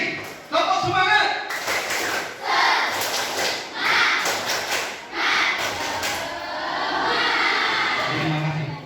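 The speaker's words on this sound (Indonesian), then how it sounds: "Sekali lagi, tepuk semangat!" A school group does a rhythmic spirit clap at a regional competition, bursts of patterned group clapping repeating several times with crowd voices mixed in.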